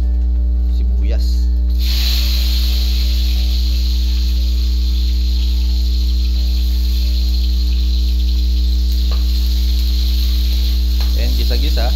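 Garlic and onion sauté in a hot pan, giving a steady, loud, continuous sizzling hiss that runs without a break, with a voice faintly audible in places.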